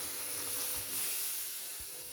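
Broth poured into a hot pan of frying fish with eggplant gives a steady, close sizzling hiss that holds evenly throughout.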